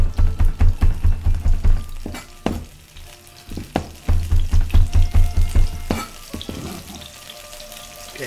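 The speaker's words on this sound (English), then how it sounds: "And put the sage inside. Okay. See the frying pan is still hot." Finely minced sage sizzles in a hot frying pan, a crackling, bubbling hiss with rhythmic pulsing bursts of frying and sharp clicks, close and fairly loud with no talk.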